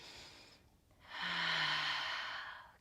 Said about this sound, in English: Big inhale here.